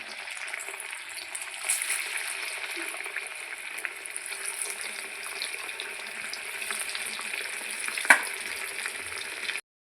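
Sweet potato pieces fry in hot oil with a continuous close crackling sizzle, light stirring scrapes, and one sharp clink of a utensil near the end.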